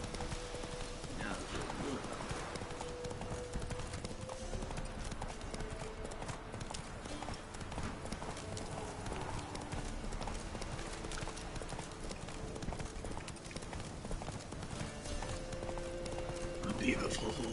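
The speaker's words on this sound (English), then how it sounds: "A beautiful horse." Horse hooves clip-clopping at a steady walking rhythm in the video game Witcher 3, continuous throughout under game ambience and someone talking, with a brief whinny-like tone near the end.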